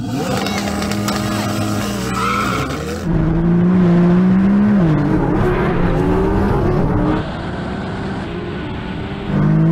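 A Nissan GTR races a tuned Audi R8 and a tuned McLaren 720S off the line in a drag race. Loud, close engines roar and rev hard, with a deep surging growl that climbs through the gears.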